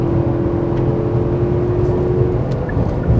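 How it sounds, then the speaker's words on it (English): Deep, steady V8 engine drone of a Genesis G90 luxury sedan with a constant hum heard from inside the moving car, smooth and continuous without speech. "Just love the noise the V8 makes."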